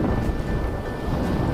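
Wind rushes past a Bavaria 960 sailing yacht on Lake Constance, a steady, loud low buffeting across the microphone with a faint whistle and water wash beneath.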